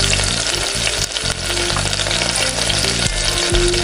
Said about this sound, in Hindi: जो बाकी के रह गए मैं उन्हें भी इसी तरह फ्राई कर लूँगी